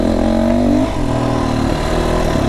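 An FSE300R motorcycle engine revving up while accelerating, loud and close, its throaty tone climbing and dipping through brief gear changes.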